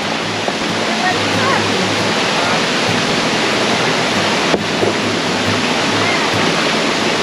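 A steady loud rush of river water fills the scene along a steep, slippery trekking route beside and through a river, constant broadband flow with a brief knock midway, no talk.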